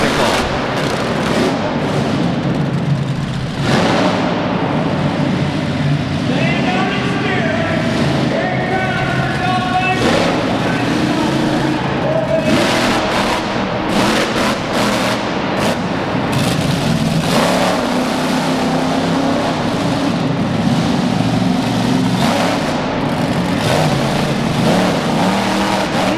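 Monster truck Donut roars toward a car obstacle at an indoor ActionTracks event in Lexington's Alltech Arena, its engine revving hard and surging repeatedly under continuous crowd noise and an announcer's commentary.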